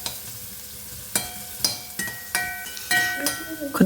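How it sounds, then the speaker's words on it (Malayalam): Onions frying in hot coconut oil for a ridge gourd stir-fry, a steady sizzle broken by sharp scrapes and clinks of a spoon stirring the pan, close by. "വെളിച്ചെണ്ണ ചൂടായിട്ടുണ്ട്. നമുക്ക് സവാള ഇടാം. ആദ്യം തന്നെ നന്നായിട്ടൊന്ന് ഇളക്കുക."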